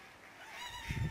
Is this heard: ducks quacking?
yes